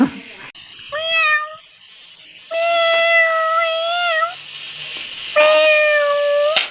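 A cat meows three times, drawn-out and plaintive, with short pauses between calls; faint voices and background noise around them.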